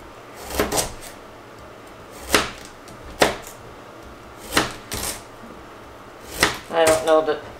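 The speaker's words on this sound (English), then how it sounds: "But right now I'm just slicing them up." A kitchen knife slicing carrots by hand for dehydrating, with sharp separate chops striking the board at an uneven pace, some in quick pairs, close and fairly loud against a quiet room.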